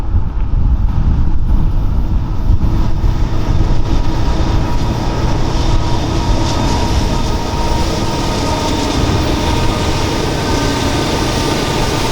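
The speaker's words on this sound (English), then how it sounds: "another westbound stack train, this one with 4 engines up front and 2 more in the middle, battling Beaumont Hill" A westbound double-stack freight train, with four locomotives up front and two mid-train, labours up Beaumont Hill in Southern California, a loud, steady rumble of engines and rolling cars that carries on without a break.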